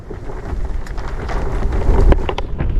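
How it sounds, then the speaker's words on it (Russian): Strong wind buffets a tent pitched outdoors at night, a loud, continuous rumbling roar with flapping fabric rattles and gusts building toward the end. "Надеюсь, выдержит палатка ветер."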